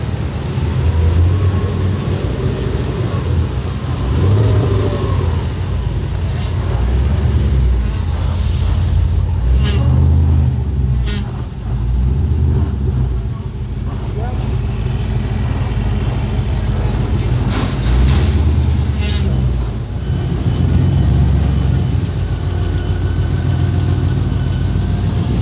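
A 1968 Plymouth Formula S Barracuda with a HEMI engine, shown at the Pigeon Forge Rod Run, rumbles low and idles with occasional swells, under people talking nearby.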